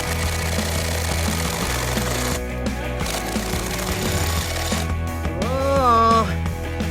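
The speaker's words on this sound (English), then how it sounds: "bore it out with the paddle bit" A drill bores holes with a paddle bit during a Webasto gas heater install in a Ram Promaster van, giving a continuous grinding whir with short pauses and a rising whine near the end.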